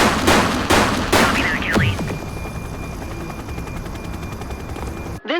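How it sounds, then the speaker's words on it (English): Rapid bursts of gunfire crackle during a police shootout downtown after a bank robbery in The Precinct, several sharp volleys early on, then a steady hum as a radio voice briefly speaks near the end. "We're downtown where police are engaged in a fierce shootout following yet another bank robbery"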